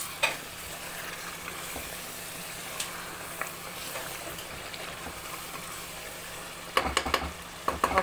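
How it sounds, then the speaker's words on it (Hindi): Mutton sizzling in a pan for aloo gosht, a faint, continuous frying hiss with a few light spatula clinks and a brief burst of scraping at the end. "अब इसको हम अच्छी तरह भूनेंगे।"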